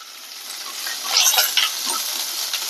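Turmeric and spices sautéing in a pan for Tamil-style mango rasam, a steady soft sizzle with brief stirring scrapes, close and alone without talk.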